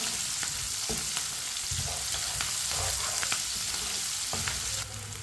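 Onions frying in oil over a medium flame, stirred with a spoon, for okra fry: a steady close sizzle with scraping spoon strokes and clicks against the pan throughout, no talking.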